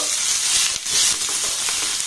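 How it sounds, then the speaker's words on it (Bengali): Onions and green chillies sizzle as they fry in oil, with a steady bright hiss and faint stirring clatter, close and continuous without any voices. "এবার লঙ্কা আর পেঁয়াজটাকে একটু নাড়াচাড়া করে ভেজে নেব।"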